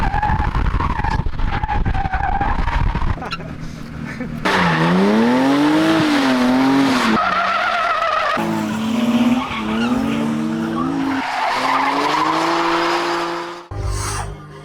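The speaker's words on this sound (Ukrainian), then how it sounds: "Сьогодні буде третій день, коли Вова вчиться дріфтить." A BMW drifting in tandem, with long, wavering tire squeals and a revving engine, loud and close, repeated across the run with brief pauses between slides.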